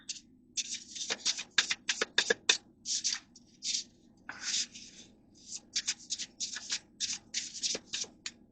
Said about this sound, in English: let's do one or two more shuffles and then I'm going to split the deck